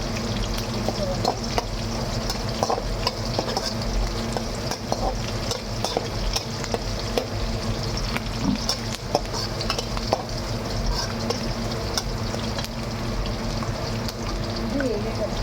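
Curry leaves crackling and sizzling in hot oil for temple-style pulihora tamarind rice, with a spoon scraping and stirring against the pan in a steady, busy clatter.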